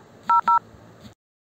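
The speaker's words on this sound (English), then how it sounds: "if I make a phone call, let's say." Xiaomi phone keypad dialing tones while placing a call: two short, clear electronic beeps in quick succession, followed by a faint soft click, close and alone over a quiet background hum.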